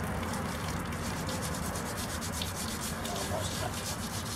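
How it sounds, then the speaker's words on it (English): A gloved hand rubs rust off a cast iron Dutch oven, giving a continuous close, dry scraping and scrubbing texture with a steady level and no pause. "Just rubbing it with the glove here."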